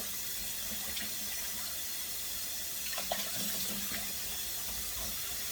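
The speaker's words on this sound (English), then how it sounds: "Take them out of this murky water, put them in clean water." Tap water runs steadily into a kitchen sink while raw pork neck bones are rinsed in clean water, a constant close hiss with faint splashes and clinks and no talking.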